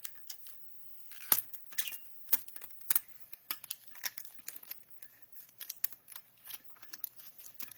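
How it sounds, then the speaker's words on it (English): Cricut vinyl being peeled off an etched stainless steel surface, giving close, quiet crackles and sharp papery tearing bursts in an irregular rhythm, with no talking. "you're going to peel off the Cricut vinyl"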